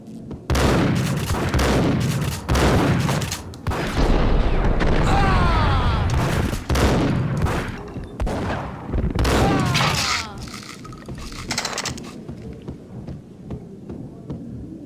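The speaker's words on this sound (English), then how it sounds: "God damn! I thought it was a bomb for sure." Heavy explosive blasts and booming bursts from the video game Max Payne, several loud impacts in quick succession over the first half, then scattered further crashes fading into a quieter tail, with no talk.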